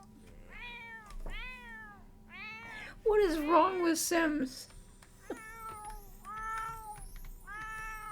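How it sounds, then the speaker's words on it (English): Cat meowing in The Sims 4, a string of repeated drawn-out meows with a louder, more strained yowl in the middle, set against steady game background music, while a person talks briefly over it. "this cat is driving me absolutely bonkers"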